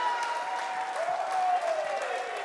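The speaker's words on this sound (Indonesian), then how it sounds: "sekali lagi boleh kita berikan tepuk tangan Bapak Ibu" Applause from the audience at a regency candidates' public debate in Malinau, a steady wash of clapping heard from some distance, fairly faint and even throughout, with a faint tone running beneath.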